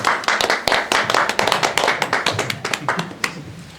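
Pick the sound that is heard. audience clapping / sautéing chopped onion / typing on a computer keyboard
audience clapping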